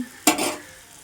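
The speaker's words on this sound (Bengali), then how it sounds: "ভাজা হচ্ছে" Food dropped into hot oil in a pan bursts into a short, sharp sizzle that quickly fades to a soft crackle, faint and close.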